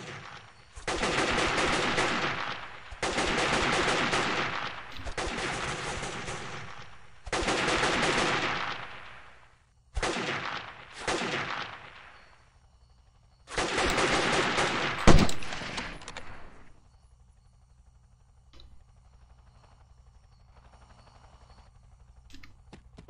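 Machine-gun fire in Delta Force: Land Warrior comes in several long, loud sustained bursts separated by short gaps, with one sharp crack near the end before it fades to quiet ambience.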